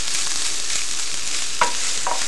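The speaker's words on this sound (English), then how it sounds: "Mix all this in" Ground meat being stirred in a hot pan for a shepherd's pie filling, a steady soft sizzle with a couple of brief scraping strokes from the spoon, close and fairly loud, no talking.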